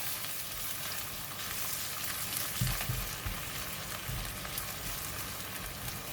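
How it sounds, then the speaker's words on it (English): Egg frying and being stirred in garlic oil in a pan, giving a continuous moderate sizzle with a few soft spatula knocks partway through, close and with no speech. "put in the egg, a little bit balance of the salt, and we're just going to stir the egg"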